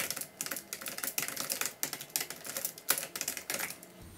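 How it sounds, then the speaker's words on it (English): Fingers type a search question on a computer keyboard: a steady, close run of rapid key clicks with no talk. "just going straight into Google and typing whatever your question may be"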